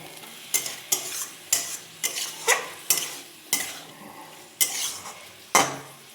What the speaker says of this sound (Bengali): এবারে ঢেকে ঢেকে ভেজে দিলেই হয়ে যাবে